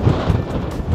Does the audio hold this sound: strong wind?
yes